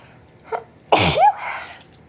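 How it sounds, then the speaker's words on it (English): A single sharp sneeze with a short inhale before it, close to the microphone, followed by a brief breathy trailing sound. "About to sneeze."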